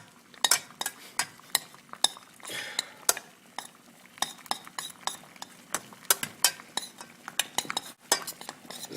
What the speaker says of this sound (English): it's important to keep the chocolate moving